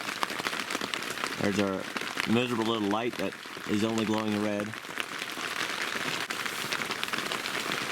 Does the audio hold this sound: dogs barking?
no